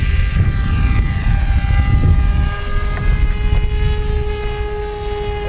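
Freewing Seagull 1400mm 4-in-1 radio-controlled plane with EDF or propeller power taking off and flying, a loud steady whine with sharp tonal lines and some wind rumble underneath, held continuously.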